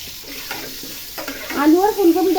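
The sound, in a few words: frying cauliflower and potatoes in oil with salt and turmeric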